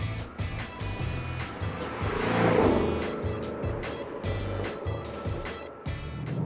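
A 2019 Ford Mustang Shelby GT350 drones nearby with engine and exhaust noise. The pitch climbs to a louder peak midway and then settles into a steady, sustained note.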